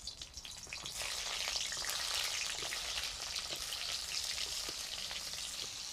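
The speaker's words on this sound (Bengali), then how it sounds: "এবারে আমি পটলগুলো ভেজে নেব।" Pointed gourd (potol) fries in hot mustard oil in a kadai, giving a quiet, steady sizzle with scattered crackles and pops that continue without break.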